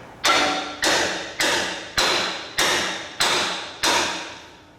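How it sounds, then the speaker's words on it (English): Seven evenly spaced metallic smacks of a brass hammer striking the rear shock absorber on a Volvo VNL 780 truck, each a sharp close strike with a short ringing decay, alone without talk. "I'm gonna try smacking it with a brass hammer to start with."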